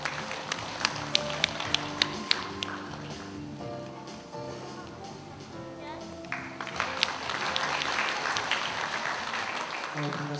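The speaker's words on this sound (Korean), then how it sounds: "큰 박수로 맞아 주시기 바랍니다." Applause at a commemoration ceremony for a founding centenary, a moderate crowd clapping beneath music with sustained tones, building louder toward the end.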